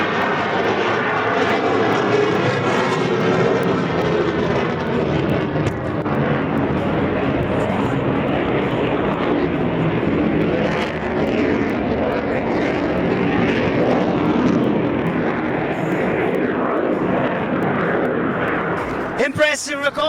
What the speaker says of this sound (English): He's going to treat us to a slow fly pass above the active, overflowing airstrip